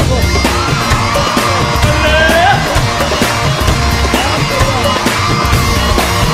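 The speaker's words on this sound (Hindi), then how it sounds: "बहुत जोरदार तालियां हो" A large audience at a motivational talk bursts into loud, sustained applause with scattered whoops and yells, the clapping dense and continuous throughout, with some tonal background sound mixed in.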